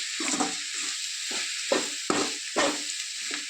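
Tamarind leaves fry in a pan with chili powder, giving a steady sizzling hiss broken by several scraping stirs from a spatula, close and moderately loud.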